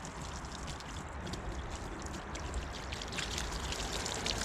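Water pours and splashes steadily as dirt is rinsed off an RC car, a continuous close hissing stream that grows slightly louder toward the end.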